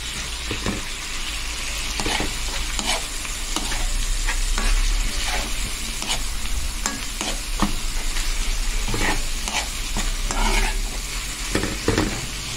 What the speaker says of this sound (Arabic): هنزل بقى بالباذنجان بتاعي، هقلبه